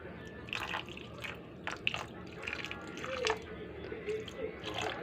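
Tiny alamang shrimp washed by hand in water, with close, quiet splashing, dripping and squishing sounds coming in irregular bursts.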